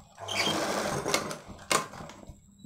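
A sewing machine stitches a boat-neck baby frock in quick close bursts of mechanical whirring and rattling, with short pauses between runs.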